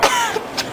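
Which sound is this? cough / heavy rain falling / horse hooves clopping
cough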